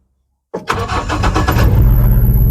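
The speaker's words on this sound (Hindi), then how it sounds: "अब सेल्फ लगा रहे हैं इस गाड़ी का, जो कि पहले स्टार्ट नहीं हो रहा था।" A Mahindra Bolero pickup with a BS4 engine, previously failing to start, cranks briefly on its self-starter and catches within a second, then settles into a loud, close, steady idle.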